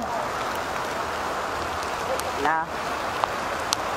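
Heavy rain pours steadily during a charity bike ride, a dense, even hiss running throughout, with a few brief clicks and a short warbling tone partway through.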